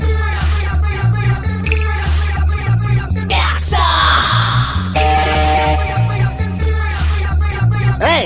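A telephone rings in a Telugu film scene, with repeated electronic ring bursts over a steady low hum and background score, shouting and noise breaking in midway.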